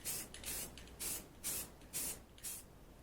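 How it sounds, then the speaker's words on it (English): Black spray paint going onto the inner side of a Royal Enfield Continental GT 650 cafe racer fairing: six short, evenly spaced hissing bursts from a spray can, close and fairly loud, with quiet gaps between them. "I'm going to get the first coat of the black on the inside of the fairing."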